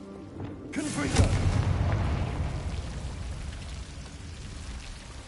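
A Confringo fire spell blasting in Hogwarts Legacy: one loud, close boom about a second in, fading into a long crackling rumble.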